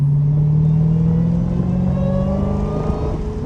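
Dodge Hellcat engine revving hard while the car slides around a corner on a partly wet, partly dry surface, a loud, sustained deep roar with a steady tone that slowly drifts in pitch, heard from inside the car.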